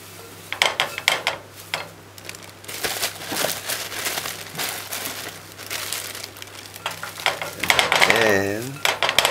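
Quick knife chops tapping on a cutting board with crinkly rustling of callaloo leaves being diced, a few rhythmic bursts, close by, ending in a brief sizzle-like swirl.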